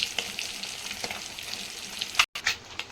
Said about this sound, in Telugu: ఇవి కూడా ఆయిల్లో ఫ్రై కావాలి